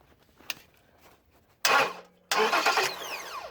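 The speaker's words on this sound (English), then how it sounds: "if I can get this in here and touch the solenoid lead, in theory the starter should work" A starter cranks the engine of a 2021 Ford F250 pickup as the solenoid lead is touched by hand, two loud close bursts of cranking, the second running on longer and fading out.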